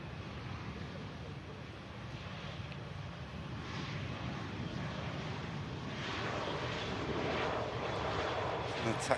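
An Airbus A320 lands, its jet engine roar and rumble steady and fairly loud throughout, with wind buffeting the microphone and a voice talking faintly under it.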